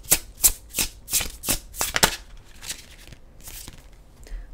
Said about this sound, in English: we'll get you a Fear Nothing card from the Fear Nothing Oracle deck